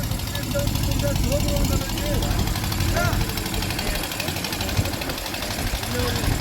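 Steady engine drone from a pump emptying rainwater out of flooded fishing boats at Thoothukudi, a continuous chugging hum running under a man's speech throughout.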